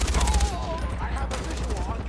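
Far Cry 4 gunfire rattles in rapid automatic bursts for about two seconds, with voices faintly underneath.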